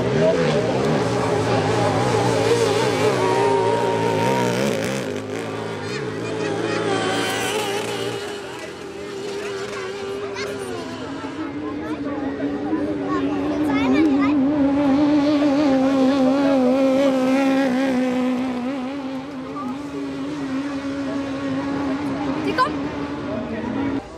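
Speedkart on a grass track, its engine running rough with a droning note that wavers and surges unevenly across the stretch. People talk over the engine throughout.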